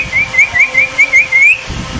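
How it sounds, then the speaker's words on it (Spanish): A person whistles to call an animal in a quick series of short rising notes, about eight in a row, fairly close and clear, then stops. "A ver cómo le chifla."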